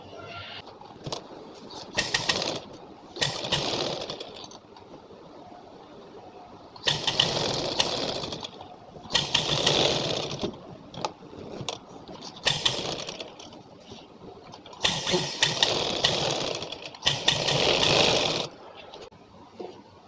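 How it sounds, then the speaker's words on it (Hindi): A sewing machine stitching an organza neck design, running in repeated bursts of whirring stitching separated by short pauses, fairly close and steady. "तो चलिए सिलाई लगा लेते हैं।"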